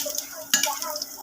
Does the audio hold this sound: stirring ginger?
yes